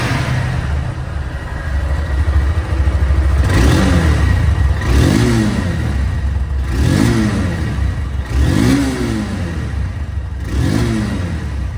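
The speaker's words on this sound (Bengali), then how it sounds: "এই বাইকটির সাউন্ড শুনুন, সাউন্ড শুনলে বুঝতে পারবেন যে গাড়িটির সাউন্ড কতটা স্মুথ আছে এবং ইঞ্জিন কোয়ালিটি কেমন।" A 2023 Honda CB Hornet motorcycle engine, heard close, blips through about five quick throttle revs over a low, steady idle, each rev rising and falling sharply.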